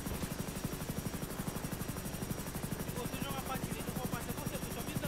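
Helicopter rotor thumps steadily in a GTA roleplay game scene, a fast, even pulsing beat held throughout at fairly close range.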